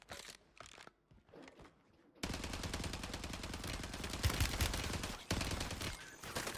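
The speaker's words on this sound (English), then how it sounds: "I am shooting bullets upon bullets." Rapid automatic gunfire from Call of Duty gameplay starts after a couple of quieter seconds, then rattles on as a dense, continuous burst with a brief break near the end.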